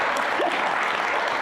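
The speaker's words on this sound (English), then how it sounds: "Please clap for that." Audience applauding at a Hawaiian hula gathering, a steady dense wash of clapping that fills the whole moment with no break.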